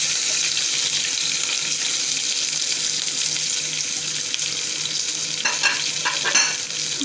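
Mustard seeds, cumin seeds and curry leaves, with chopped ginger and green chilies, crackle in hot oil in a pan as tempering for Sindhi-style masala roti. A constant loud sizzle carries a few sharper pops near the end.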